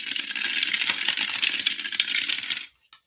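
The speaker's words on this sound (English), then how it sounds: "let's roll all these dice" Several dice tumble and clatter together for about two and a half seconds, a dense continuous rattle that stops abruptly, followed by one faint final tick.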